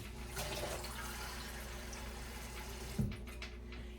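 Water runs steadily into a pot for beef tips, a soft continuous pour with a small clunk near the end.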